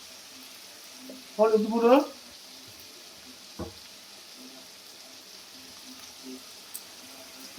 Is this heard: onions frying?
yes